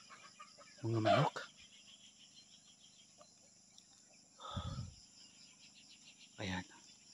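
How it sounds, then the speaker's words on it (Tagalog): A few short bursts of chicken clucking, spaced apart, against a quiet background with a faint steady hum. "Mga manok."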